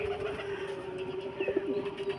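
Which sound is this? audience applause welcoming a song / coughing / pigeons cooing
pigeons cooing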